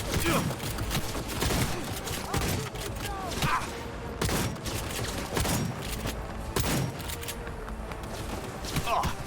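Scattered gunfire in Cyberpunk 2077 crackles as repeated sharp bursts and thuds in an irregular rhythm, mid-distance, mixed with footsteps and a spoken voice.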